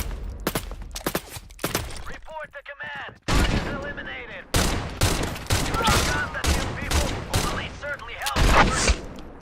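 Rapid gunfire bursts in the survival shooter game Pioner, loud repeated shots and volleys with a brief lull midway, punchy and close throughout.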